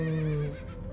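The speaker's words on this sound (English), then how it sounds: "Horses are going nuts." Horse whinny from the game Limbo of the Lost, a single loud, close neigh with a wavering pitch that trails off within a second.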